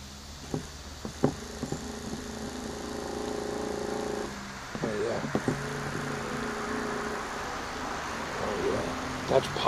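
A small 12 volt electric motor run on 6 volts gives a steady, low humming whine in two stretches separated by a brief pause, with a few clicks and knocks around it.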